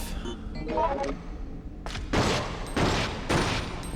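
Several .45 pistol shots ring out in the Resident Evil Outbreak video game, a cluster of sharp reports with short reverberant tails, fired in quick succession over a low game background.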